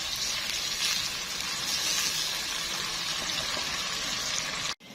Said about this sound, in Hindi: मैंने इसमें थोड़ा सा पानी ऐड किया ताकि ये नीचे नहीं लगे।